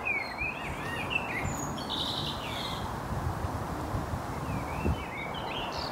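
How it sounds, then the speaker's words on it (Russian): Birds sing and chirp in repeated short calls around a riverside path, moderately close, over a steady outdoor background with faint insect buzz. "Птички тут поют"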